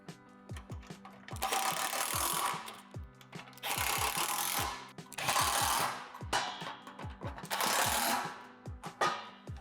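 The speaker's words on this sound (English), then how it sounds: "drill out the 12 divots with a 3/8 drill bit going from the top down" Power drill with a 3/8 bit drilling out divots in a plastic swing-set deck panel. It whirs in four bursts of roughly two seconds each, separated by short pauses and punctuated by clicks and rattles.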